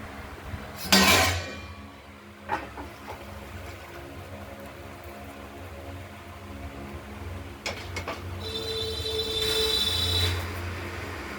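Metal utensils clinking against a pan and plate while serving a prawn and tengra fish curry with potatoes, coriander and ground spices, a few sharp scrapes and clinks in a quiet kitchen.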